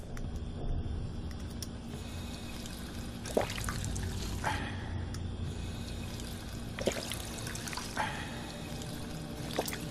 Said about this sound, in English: Get a drink of water, try to bring the health up a little bit.